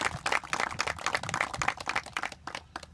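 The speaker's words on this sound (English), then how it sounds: "Let's give these two a round of applause." An audience at an outdoor education center gives a round of applause, a dense steady patter of many hands clapping at moderate distance, alone without talk.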